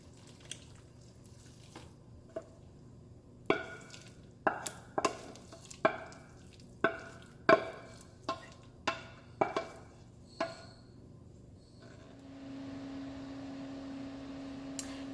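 Shredded cheese is mixed into chicken spaghetti, with a series of wet, squishy slaps and soft clinks at irregular intervals, close and moderately loud, ending in a low steady hum, with no talk.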